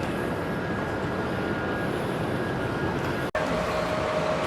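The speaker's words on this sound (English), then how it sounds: "Here we go on the tram out to B gates." An airport tram heading out to the B gates rolls along with a steady rumbling hum and whine, loud and continuous, with a brief cut near the end and a tone that shifts as it moves.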